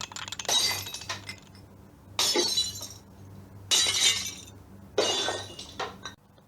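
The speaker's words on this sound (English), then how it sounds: "The plates began to slide down from the shelf. They crashed and broke." Plates slide off a shelf and crash, shattering in four separate loud bursts of breaking crockery, each followed by tinkling shards settling, over a low steady hum.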